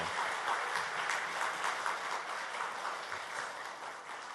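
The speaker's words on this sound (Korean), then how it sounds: "우리 찬양대 경례 박수 한번 하겠습니다." Applause from a church congregation for the choir at a Thanksgiving Sunday service: a steady, even wash of many hands clapping at once, fairly distant and quiet, with no talk over it.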